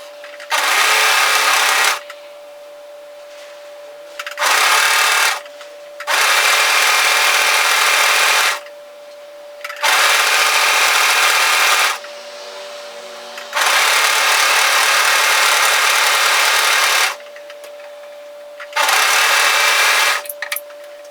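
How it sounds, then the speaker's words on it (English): Close, loud sewing machine stitching a sleeve into a sweatshirt-fabric bomber jacket, running in several steady bursts of a few seconds each with short quiet pauses between. "I'm going to sew that into place, making sure that notch matches there"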